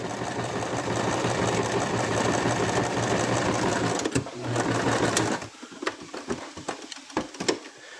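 Sewing machine running a back stitch while making a plush Cute-thulhu, a steady fast mechanical chatter for about five seconds that gives way to scattered clicks and handling sounds.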